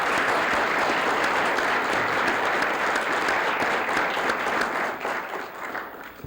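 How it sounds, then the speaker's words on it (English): An audience at a 1994 McDonald's children's speech contest gives the contestants a sustained round of applause, dense clapping that holds steady and then fades in the final second. "A round of applause for these fine contestants."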